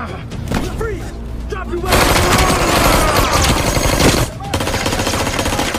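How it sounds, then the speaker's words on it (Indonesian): Gunfire in a film scene as a bodyguard shoots a man, dense loud bursts layered with music and effects, with narration-like voice beneath at times. "Tapi sialnya bodyguard itu menembak Juan sampai tewas"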